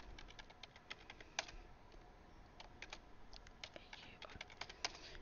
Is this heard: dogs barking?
no